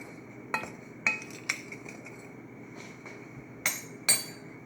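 Dry muffin ingredients, including Splenda, are stirred in a bowl, with a utensil clinking sharply against the bowl several times in an uneven rhythm over a faint steady background hum.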